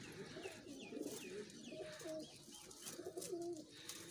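About two dozen trained pigeons coo softly and repeatedly in a loft, with soft overlapping calls and some faint chirps against a steady background hiss.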